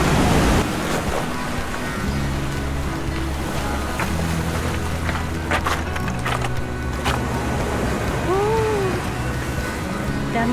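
Sea waves roll in at high tide near a cave at Clear Water Bay, Hong Kong, making a continuous wash and surge with wind noise on the microphone. Voices talk over the water, and there is a brief whistle-like sound near the end.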